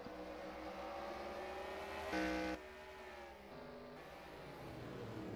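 Race car engines drone steadily during a race, including the Rockwell Automation Chevrolet, a fairly faint continuous whine with a brief louder surge as a car passes.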